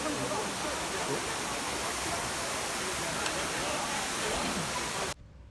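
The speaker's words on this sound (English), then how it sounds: "Woohoo! David's Waterfalls." The waterfall at David's Waterfalls in Israel roars as a dense, steady rush of falling water, loud and close, then cuts off abruptly near the end.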